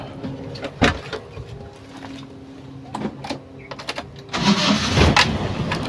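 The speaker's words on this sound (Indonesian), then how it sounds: "Kini saatnya kita menyalakan mobil ya." A Toyota Kijang car with a freshly serviced carburetor: a few clicks and knocks, then the engine cranks and catches, settling into a loud, rough running sound close by.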